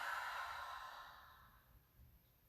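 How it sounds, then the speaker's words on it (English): A single deep exhale through an open mouth during a chair yoga session, soft and close, a breathy airy rush that fades gradually into quiet. "Open the mouth and exhale it out."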